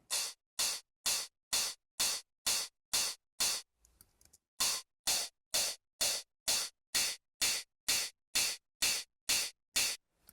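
Crisp, distorted hi-hat hits tick out a steady, fast rhythm of sharp, noisy bursts, with a brief pause partway through before the pattern resumes.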